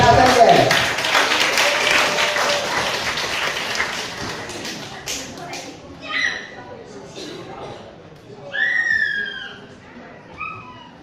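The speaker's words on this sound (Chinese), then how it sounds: "掌声鼓励" An audience at a church Christmas celebration gathering claps, a dense burst of applause that fades over the first few seconds before people start talking.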